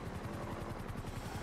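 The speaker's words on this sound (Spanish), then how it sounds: "Uy, un helicóptero, tú." A helicopter flies directly overhead in the FiveM game, its rotor thumping in a fast, even low-pitched pulse that sounds loud and close, with no speech over it.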